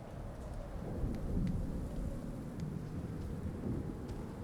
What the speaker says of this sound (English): Again, I like the snow and rain mix.